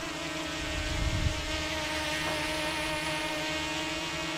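An F007 drone with brushless motors flies steadily, giving a continuous, fairly loud mechanical whir with a brief swell near the start and no voices.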